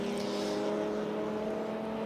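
A Lotus 11 race car at Silverstone holds a steady, droning engine note at moderate distance, its sustained harmonic whine continuing evenly with no talk over it.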